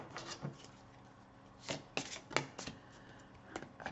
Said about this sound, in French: Pas facile de mélanger quand il y a d'autres cartes en dessous.